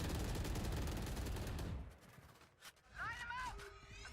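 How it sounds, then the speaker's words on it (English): Valorant gunfire during a Pacific esports match, dense rapid shots and crackling bursts at first, thinning out into scattered pops with game effects and a faint voice behind. "Plenty of shots flying."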